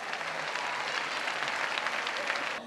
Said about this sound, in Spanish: Un fuerte aplauso para Juan Carlos Ferrero.